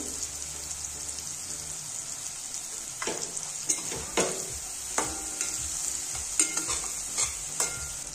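Masala with fresh coriander is stirred in a pan for masala pav, giving soft spoon scrapes every second or so over a steady faint sizzle with a high hiss.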